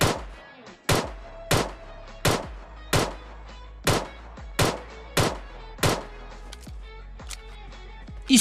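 Pistol gunfire in the mobile battle-royale game PUBG Mobile, a steady run of about nine sharp, loud shots spaced roughly every 0.7 seconds, with a louder final report and a faint game hum between them.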